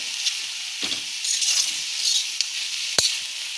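Paneer roll filling sautéing in a pan, a light sizzle under scraping stirs and a few sharp clinks of a spoon against the pan, fairly close and brief.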